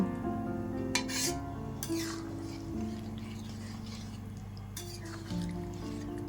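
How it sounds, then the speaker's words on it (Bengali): Cauliflower, potato and egg curry simmers in a pan, giving a steady low bubbling and sizzling hiss, with a few light clinks of a utensil against the pan near the start and end. "এবার একটু সময় নিয়ে ফুটিয়ে নেব"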